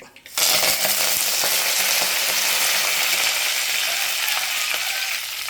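Curry leaves dropped into hot oil in a pan, sizzling loudly and close at once, then a dense, steady crackling hiss that holds throughout with light stirring clicks and no voices.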